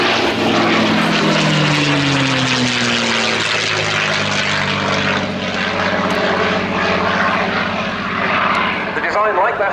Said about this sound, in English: They came up with what became this, the Mustang.